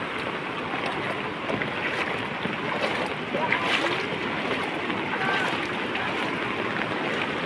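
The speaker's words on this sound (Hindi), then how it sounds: "बहुत ज़्यादा पानी हो गया, बहुत ज़्यादा पानी।" Heavy rain floodwater rushes through Pune, Maharashtra, a dense, steady roar of churning water with broadband wash and no pauses, close and loud throughout.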